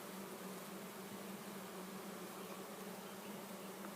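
Honeybees buzzing steadily around an open hive during an inspection, a dense, continuous drone of many insects, faint and even throughout with no voices.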